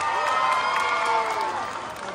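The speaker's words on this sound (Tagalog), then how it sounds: "Ako gaganahang magpakilala kung walang masigabong hiyawan at palakpakan dyan." A crowd cheers and applauds at a school beauty pageant costume round, a continuous wash of shouting and clapping that stays loud and steady before easing slightly at the end.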